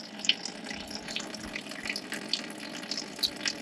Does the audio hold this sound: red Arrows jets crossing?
no